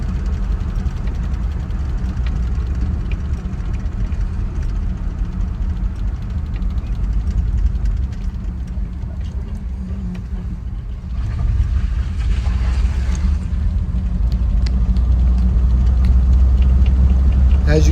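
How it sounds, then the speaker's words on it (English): A 1968 Cadillac De Ville hardtop sedan drives with steady low engine and road rumble, its flat-spotted tires adding extra road noise; the drone is continuous and fairly loud, growing heavier near the end. "the tires are flat spotted, so it's got a little bit of extra road noise right now."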